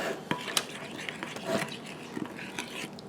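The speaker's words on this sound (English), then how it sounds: "I'm going to stir this up really good" Korean cucumber pickle mixture being stirred in a bowl, giving soft, faint scraping and wet clicking sounds at an irregular rhythm.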